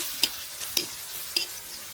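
Cinnamon, black and green cardamom, cloves and peppercorns are stir-fried in oil for a beef bhuna, with a soft sizzle under three crisp spoon-on-pan scrapes spaced about half a second apart.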